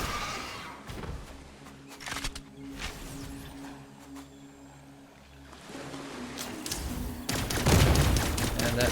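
Automatic machine gun fire in the sci-fi game Cygnus Enterprises, a loud, dense run of rapid shots over a low engine-like drone, with brief bursts early on and a heavier, louder volley near the end.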